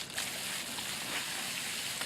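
A dog biting and splashing at water in a garden setting, with short continuous sloshing and splatter, close and fairly soft, and no clear speech over it.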